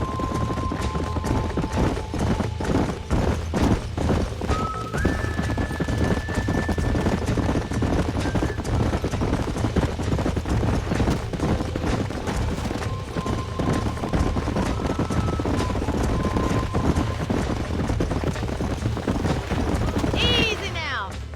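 Horse hooves clip-clop steadily in the Red Dead Redemption ranch setting, a continuous rhythmic clatter beneath ongoing talk and game music, with a brief whinny-like sound near the end.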